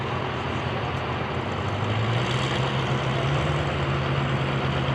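A 2004 Chevrolet Silverado Duramax truck drag racing roars loudly and steadily, its heavy diesel engine note rising slowly in pitch across the clip, close and unbroken.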